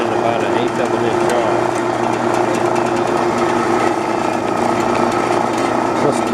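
A metal-cutting band saw runs steadily with a loud, continuous mechanical whir and rattle, holding an even level from start to finish.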